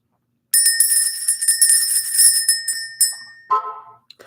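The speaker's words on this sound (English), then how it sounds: "Let's ring the bell." A bell struck once rings out loud and clear with a bright shimmering tone, followed by a second lighter strike and a short lower clatter as it settles.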